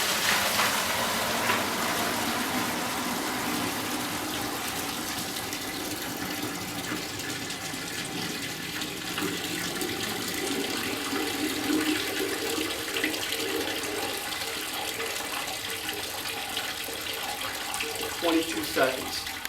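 Water rushing and splashing as it drains through a HydroWay flat strip drain in a demonstration, a steady close wash of flow lasting throughout.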